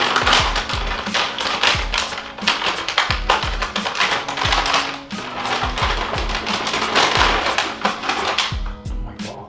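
Packaging for Cole Buxton warm-up sweatpants being opened up close, a busy run of sharp tapping and crinkling noises with quick clicks, some louder than others, and no one speaking.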